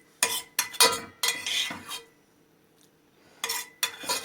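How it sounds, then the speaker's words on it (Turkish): Onions being sautéed in a pan for a home breakfast: a spoon or spatula scrapes and clinks against the pan in short bursts, with a faint sizzle between strokes and no talk. "Buna soğan kavurayım da."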